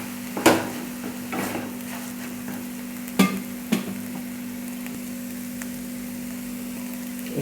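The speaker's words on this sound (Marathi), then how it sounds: "हलवून घ्यायचे." Egg bhurji frying in a pan, stirred with a few sharp knocks of the spoon against the pan over a steady low sizzle and hum.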